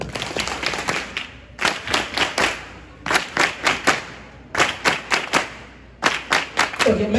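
An audience at a conference debate claps in rhythmic, synchronized bursts of about five or six loud claps each. The groups are separated by brief pauses and repeat several times, up close, with faint voices underneath.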